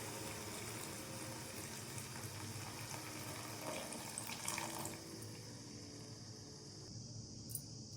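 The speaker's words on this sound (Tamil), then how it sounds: "இதில் புளிக்கரைச்சல் தண்ணியை சேர்த்துக்கலாம்" Tamarind water pours steadily into a pot of okra curry, a soft continuous splashing trickle that fades toward the end, with faint clinks.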